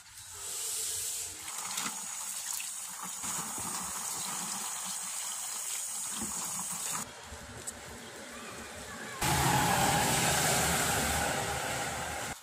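A dirty washing machine tub rinsed out with water, a steady hiss of spraying and gushing water that grows louder and brighter toward the end.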